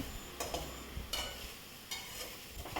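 Bitter gourd dry-roasts in a kadai on low heat with no water or oil, a soft continuous crackle broken by a few scraping stirs, close and quiet with no voices.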